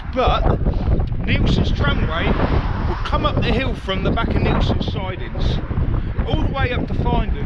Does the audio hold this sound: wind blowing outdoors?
yes